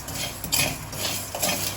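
Spices and salt frying in a pan for chicken keema ghugni are stirred with a metal spoon, scraping and clinking steadily against the pan over a soft continuous sizzle.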